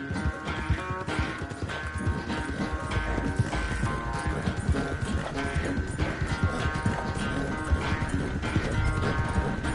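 Horse hooves clip-clopping in the video game Red Dead Redemption 2, a continuous rapid clatter of hoofbeats at a steady gait over a dense game-audio background, with no talking.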